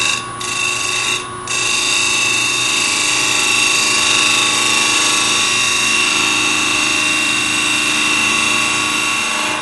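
A wood lathe turns the bottom of a segmented bowl with walnut, giving a loud, steady motor drone with a continuous tonal hum and two brief dips near the start.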